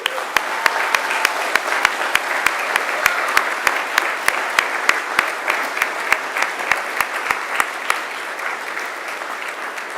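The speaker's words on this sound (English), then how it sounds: "I'd like you to join with me in giving them an almighty round of applause." Graduation audience at a Macquarie University ceremony giving a sustained round of applause: dense, steady clapping from a large crowd throughout, easing slightly near the end.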